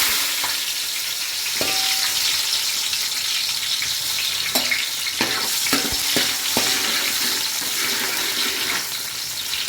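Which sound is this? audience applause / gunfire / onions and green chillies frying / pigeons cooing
onions and green chillies frying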